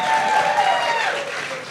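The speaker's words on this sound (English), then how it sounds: "You got applause." A live podcast audience breaks into brief applause, the clapping full and close at first, then easing slightly over under two seconds.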